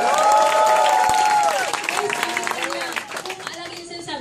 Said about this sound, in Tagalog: Yan lang ba ang palakpak ninyo kay Apply Joseph Lim?